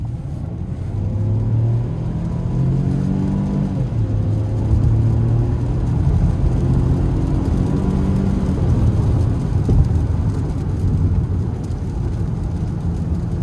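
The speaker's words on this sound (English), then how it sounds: "I have the Bronco Sport in sport mode now. We're gonna try to give it a pull getting on the interstate here." The turbo three-cylinder engine of a Ford Bronco Sport in sport mode accelerates onto an interstate, a steady droning rumble rising in pitch through gear changes, heard from inside the cabin under road noise.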